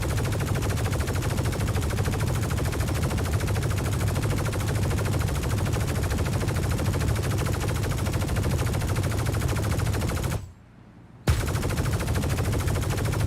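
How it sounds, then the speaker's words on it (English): Machine gun fire in the space game Star Citizen: a rapid, unbroken stream of shots, loud and relentless, that cuts out for about a second before resuming just as intensely. "Never-ending machine gun"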